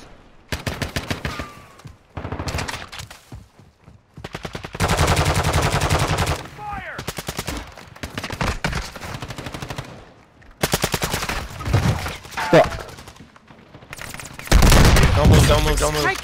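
Video game gunfire crackles in bursts of rapid automatic shots, some long and dense, some short, mixed with heavier booms and brief in-game voices between volleys.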